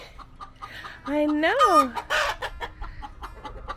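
Hens on a lavender farm in Southport, Florida, cluck and squawk close by in a brief rising burst of calls, while a person murmurs softly nearby.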